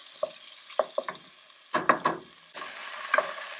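Vegetables, potatoes and pancetta cook in a pot, giving a soft steady sizzle broken by a few sharp scrapes and clicks of stirring.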